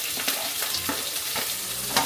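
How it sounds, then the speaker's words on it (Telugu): Chopped onions fry in a pan for kaju paneer curry, a loud close sizzle broken by regular scraping stirs, with no voices. "తరిగిన ఉల్లిపాయలు వేసుకోండి."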